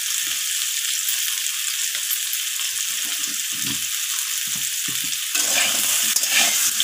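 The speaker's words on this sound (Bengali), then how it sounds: "লবণ আর হলুদটাকে দিয়ে আলুর সাথে এরকমভাবে মিশিয়ে নিয়ে আলুটাকে আমি আবারও লালচে করে ভেজে নেব" Potatoes frying in a pan with turmeric and salt as they are stirred, a steady close sizzle with soft scraping strokes, growing louder and brighter near the end.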